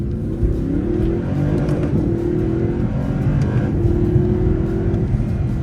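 An Audi R8 V8 engine revs hard from the cabin, its loud steady drone climbing quickly toward the 8,000 RPM limiter, then pulling again after a shift, with no talk over it.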